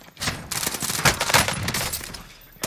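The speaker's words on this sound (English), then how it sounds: "Check out this new silenced Owen Gun build." Rapid suppressed automatic fire from a silenced Owen Gun in a video game, a dense close burst of muffled shots spanning the whole moment.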